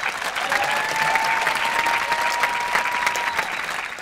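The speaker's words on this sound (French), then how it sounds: "Je lui ai demandé pourquoi tout le monde applaudit là." Audience applause at the end of a live comedy show, a dense, steady wash of clapping filling the room throughout, with a brief exchange of voices heard over it.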